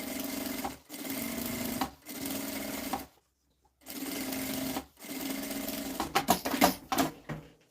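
Sewing machine running quick stitches to hold a lining onto the batting of a small fabric cosmetic case, steady whirring runs broken by short pauses, ending in brief choppy bursts, close and clear.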